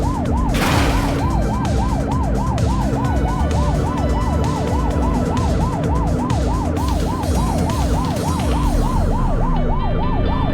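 A police siren in a video game wails, sweeping up and down steadily and loudly, with a constant rumble of traffic and engine noise underneath.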